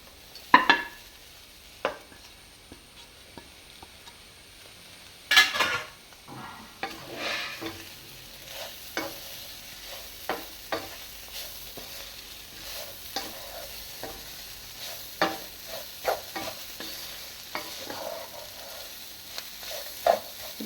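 Chicken for a thoran fries in a pan with a steady, low sizzle, broken by repeated scraping and knocking as a spoon stirs it.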